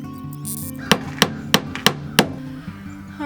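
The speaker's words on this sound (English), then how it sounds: "I had to get a different hammer, a stronger hammer, because a lot of the nails I was bending" A hammer drives nails into wood trim inside a van build, sounding as five sharp, evenly spaced strikes about a third of a second apart, close by and loud over a steady background hum.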